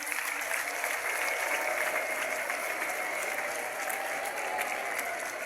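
A steady wash of applause fills a hall at a children's Christmas celebration in honour of the cardinal, mixed with ululation, dense and continuous throughout without a break.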